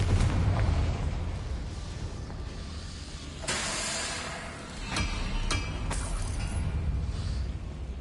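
Fiery blast of the Confringo spell in Hogwarts Legacy, a sharp burst followed by a roaring, hissing rumble and a few smaller pops, loud and close.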